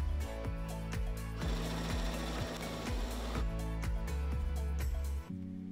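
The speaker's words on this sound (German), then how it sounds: "Senke den Nähfuß wieder und nähe weiter bis zur nächsten Ecke." Sewing machine runs steadily, stitching ribbing fabric along a jacket hem, its needle thumping in a fast even rhythm close up before stopping at the end.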